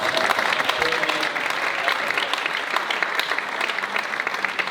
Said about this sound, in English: I want you to clap a hand for yourself